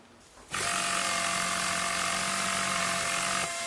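A steady, high-pitched whirring of a power tool in the video game Battlefield: Bad Company runs continuously for about three seconds, starting abruptly and cutting off cleanly, loud and close.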